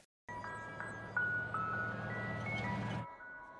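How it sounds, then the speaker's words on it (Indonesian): An ice cream truck in the horror film Legion approaches, its tinny chiming jingle melody playing steadily at moderate volume for about three seconds before cutting off, with no voices. "Datanglah sebuah mobil es krim dari kejauhan yang membuat mereka aneh."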